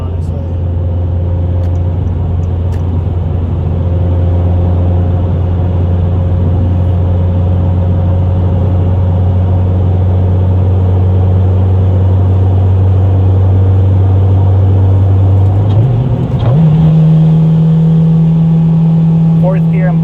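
A 9th-generation Honda Civic Si drones steadily from inside the cabin while driving, then its pitch steps up sharply after a downshift from fourth into third gear.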